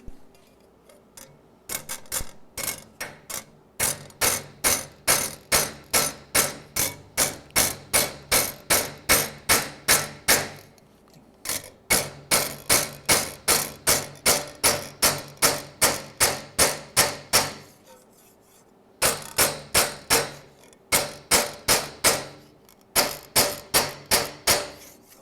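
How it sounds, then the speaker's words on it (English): A hammer beats warped, welded sheet metal flat in long runs of sharp, evenly spaced metallic strikes, loud and close, broken by short pauses between the runs. "Let me hammer on it."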